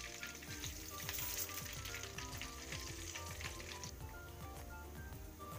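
Cumin seeds and bay leaves sizzling in hot oil for a tempering, a dense, steady crackle with light stirring scrapes close up, no talking.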